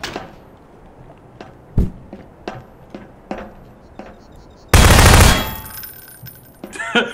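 Gunfire in the Prop Hunt video game: a series of sharp, separate shots ticks out at irregular intervals, then a loud burst of noise lasts about half a second, with a few more cracks following.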